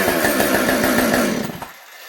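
A Stihl chainsaw engine runs in a shop, a loud steady buzzing drone close to the microphone that cuts off abruptly as the saw is shut down near the end.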